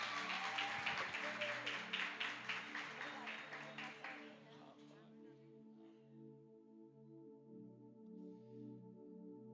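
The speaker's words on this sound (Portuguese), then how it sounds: "Agora eu quero que vocês batam uma salva de palmas para o apóstolo" A church congregation applauds for the apostle, rhythmic clapping for about five seconds that fades out as sustained organ or keyboard chords continue alone.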